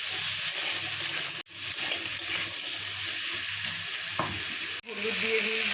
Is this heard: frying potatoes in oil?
yes